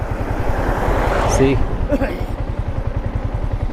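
A motorcycle coasts downhill in neutral on a mountain road near Munnar, Kerala, its engine idling in a steady low, rapid thumping. A brief voice rises over the wind rush for a moment.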